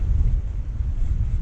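Steady wind buffeting and the rush of waves aboard a Bavaria 41 sailboat rolling at sea, a continuous low roar with gusty microphone noise and no voices.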